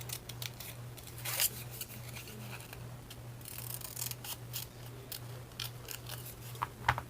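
Scissors snipping material for handmade roses, a series of short, crisp cuts at close range scattered over a quiet room with a low steady hum beneath.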